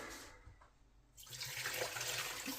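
Water pours steadily into a measuring jug while preparing a tart bourdaloue syrup with sugar, a faint trickle that swells into a fuller rushing flow partway through, heard alone and close.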